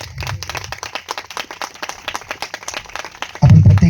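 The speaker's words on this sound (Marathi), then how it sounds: "देवासाठी टाळी वाजवूया." A church congregation gathered for a pastor's Bible sermon claps for God, the hands striking in a quick, irregular patter of sharp claps that carries on for several seconds, broken by brief low thumps at the start and end.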